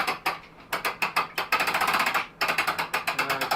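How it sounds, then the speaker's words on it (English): A pulley hoist cranks the hard top off a 2016 Jeep Wrangler Unlimited Rubicon, with rapid, loud ratcheting clicks in quick bursts and one short pause. "now we're going to go ahead and crank it up and see it come off the Jeep"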